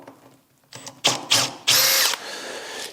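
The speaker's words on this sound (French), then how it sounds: "je vais pré-percer avec une mèche en 5 mm de diamètre" A power drill pre-drilling wood with a 5 mm bit at a workbench: a short, close, loud whirring burst that starts, stops and rises in pitch, ending in a strong high whine, with no speech.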